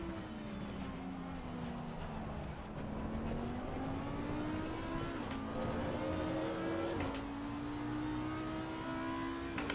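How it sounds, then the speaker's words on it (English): A McLaren GT race car in Assetto Corsa Competizione at Imola, its engine note climbing through repeated upshifts amid the roar of other racing cars, loud and steady throughout. "Here comes a McLaren."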